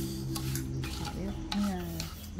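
Food coated in caramel sauce and fish sauce is stirred and mixed in a pot before braising, with a continuous close scraping and rubbing and a faint sizzle underneath.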